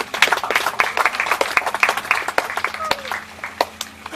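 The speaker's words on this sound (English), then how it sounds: "Round of applause, everyone." Audience clapping at an alligator wrestling show, a loose scatter of sharp individual hand claps close by, uneven rhythm, with children's and other voices chattering underneath.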